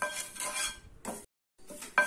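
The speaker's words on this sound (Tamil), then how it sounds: "இப்போ இந்த கருவேப்பிலையும் வறுபட்டுருச்சு" Curry leaves dry-roasting in a pan, with a dry crackling rustle and a utensil scraping and clinking against the metal in short bursts, broken by a brief silence.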